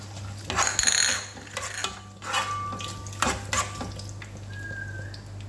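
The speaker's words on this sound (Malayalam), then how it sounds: "എണ്ണയിലോട്ട് നമുക്ക് കുറച്ച് മുന്തിരിങ്ങ ഇട്ട് കൊടുക്കാം വറുത്തെടുക്കാം" Raisins fry in oil left over from frying onions for chicken biryani: a close, soft sizzle under clattering spoon stirs and scrapes against the pan, with no one speaking.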